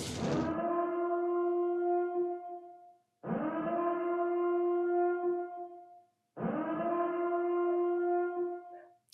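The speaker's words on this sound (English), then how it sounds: "the siren has been sounded" Three long, sustained siren-like horn blasts, each about three seconds, separated by short silences, loud and close, with a rich harmonic tone.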